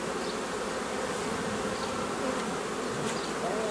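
Honeybees buzz densely around an open hive during beekeeping work, a steady close droning hum with a few individual bees whining past, no talk.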